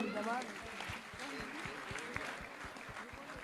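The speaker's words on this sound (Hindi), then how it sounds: "तालियां बजाइए आप लोग" An audience at a Jain religious discourse session claps, with quiet, fairly regular hand claps beneath a voice that carries over them.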